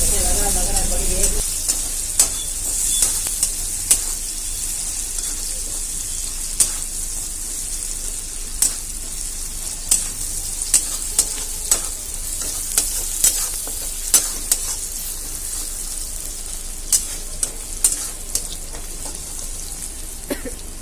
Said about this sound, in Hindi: तो प्याज अच्छे से भून लेंगे।